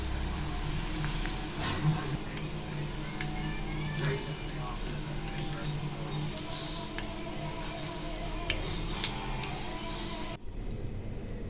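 Banana flower pakoda deep frying in hot oil, with a continuous moderate sizzle and occasional ticks and bubbling pops. A voice talks over it, and the sound cuts off abruptly near the end.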